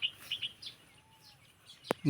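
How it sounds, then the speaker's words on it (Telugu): Baya weaver birds around their woven nests give a few short, thin chirps early on, fairly faint against quiet background hiss, followed by a brief sharper sound near the end. "ఇదిగో ఇక్కడ ఉంది చూడండి ఒక పక్షి"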